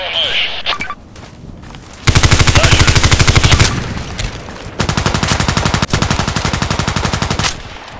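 A Colt IAR machine gun fires in the online shooter Contract Wars in two long, loud, rapid bursts at an even fast rhythm, split by a short pause. A few sharp sounds come before the first burst.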